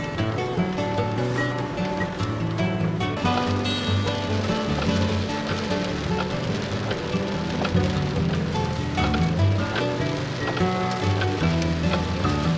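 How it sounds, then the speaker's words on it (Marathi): A dense, continuous wash of heavy monsoon rain at a roadside temple in Sangameshwar, Ratnagiri, Konkan, with a low rumbling layer underneath. "पावसाचा जोर चांगलाच वाढलाय."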